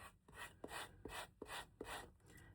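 Rhythmic rasping strokes, about five back-and-forth passes of sandpaper rubbing the edge of a leather wallet, quiet and close with short pauses between.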